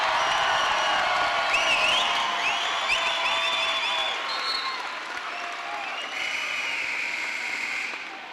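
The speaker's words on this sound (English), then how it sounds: "This crowd is getting rowdy here tonight." A high-school basketball crowd in a gym roars, cheers and applauds continuously at a Connersville Spartans versus Greensburg game in 2006, with shrill whoops and whistles rising above the steady clapping.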